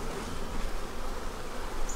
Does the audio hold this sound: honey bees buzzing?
yes